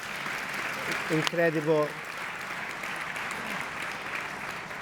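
An audience applauds a celebration, steady clapping filling the clip at moderate loudness while a voice speaks briefly over it.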